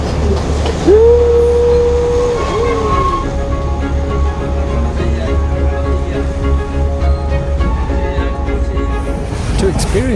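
Steady low rumble of a moving passenger train in Sri Lanka, with a brief rising squeal early on and faint voices talking in the carriage.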